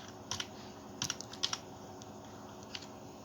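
A name typed on a computer keyboard while editing in Photoshop: a few quick clusters of crisp, close key clicks separated by short pauses.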